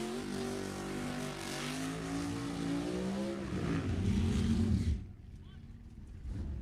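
Drag racing cars at Sacramento Raceway on an eighth-mile track: a loud, rising and falling engine drone with shifting pitch that builds and then cuts off abruptly, leaving near quiet.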